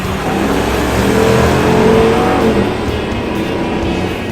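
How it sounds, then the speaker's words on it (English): The V8 of a Ram Power Wagon being opened up off-road, a loud, close engine roar that swells and holds through the revving, heavy and throaty with no voices over it. "When you really open up the V8, it sounds great."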